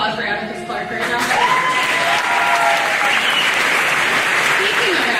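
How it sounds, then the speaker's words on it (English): At a graduation ceremony, an audience applauds a scholarship recipient with a loud, continuous round of clapping from many people in a large hall, building after the first second, with some voices and other sounds mixed underneath. "Round of applause for Abigail Clark right now."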